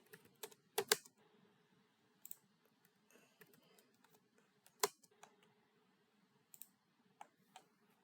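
Quiet, sparse clicks of a computer keyboard being typed on, a few distinct keystrokes spaced irregularly with soft background hum between them.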